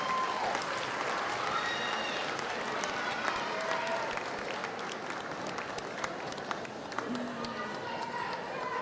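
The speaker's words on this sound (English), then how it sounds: "we want to give her one more round of applause for this beautiful design" Sustained applause from a crowd at a middle school graduation ceremony honoring a student, a dense steady clatter of clapping hands through the whole stretch with faint voices mixed in.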